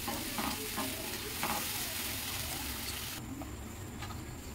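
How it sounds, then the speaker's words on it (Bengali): Spice paste for palak paneer frying and being stirred in a pan, producing a steady close hiss and sizzle with soft scraping strokes, the sizzle easing slightly toward the end. "মশলাটা ভালো করে কষে নিতে হবে।"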